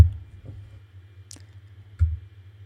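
Sparse, close computer mouse clicks, two or three light taps spread over a quiet pause, with no voices.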